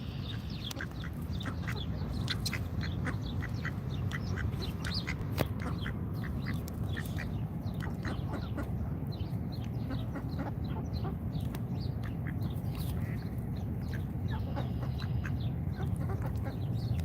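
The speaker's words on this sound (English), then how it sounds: "The ducks will cheer you on, Colin." Ducks quack over and over at an outdoor protest in Washington, DC. The calls come as steady, fairly close bursts over a constant low murmur of crowd and background noise.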